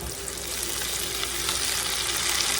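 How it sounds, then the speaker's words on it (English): Canned tomatoes poured into a hot pan of okra on the stove, giving a steady loud sizzle and hiss that builds slightly toward the end. "I'm fixing to dump my tomatoes in here now"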